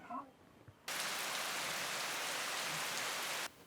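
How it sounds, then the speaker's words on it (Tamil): Heavy rain falls outdoors, a dense steady hiss that starts abruptly, holds evenly for a few seconds, then cuts off, as if heard through an opened door. "இந்த வெளியில் எவ்வளோ மழையாக கிடக்கமா"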